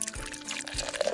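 Water pouring briefly in a short, soft burst of liquid splashing, faint and close, with no talk over it.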